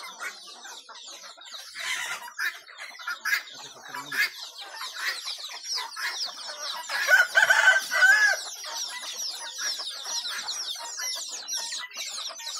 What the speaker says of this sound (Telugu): ఇవన్నీ నా కోళ్ళు. ఇవి మొత్తం నాటుకోలే.